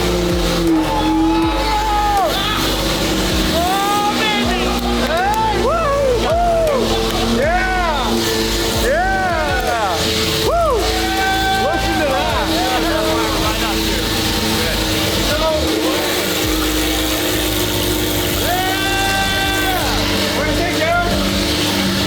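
A Lamborghini engine with probably no fuel pressure cranks and then runs loudly and continuously up close, while people talk excitedly over the engine noise.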